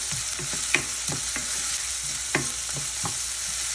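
Onions sautéing over a low flame for a Gujarati sprouted moong curry, a soft steady sizzle with scattered faint pops and stirring scrapes, close and moderately quiet, no talking.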